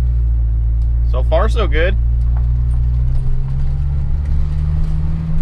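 An Acura RSX rolls along on new tires and ESR wheels, a steady low engine and road hum running throughout beneath a short spoken phrase early on.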